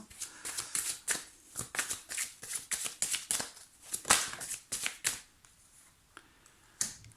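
Tarot cards being handled and drawn from a deck during a reading, a quick series of crisp papery slides and flicks, close and fairly quiet, with short pauses between bursts.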